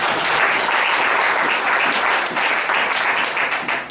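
Church congregation applauding, a dense, loud, sustained wash of clapping from many hands filling the hall without pause, with faint voices blended into the crowd.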